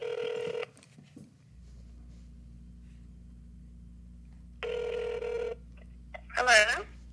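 A phone call placed on speaker: short bursts of dialing tones separated by a low steady line hum, then a ring-like warble near the end, heard close and clear without talk over it.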